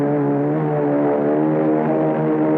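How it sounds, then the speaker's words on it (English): Several propeller airplanes in a strategy video game take off for an attack, a steady droning engine hum holding throughout without pause, fairly loud and alone. "My 3 airplanes will take off and attack from the sky."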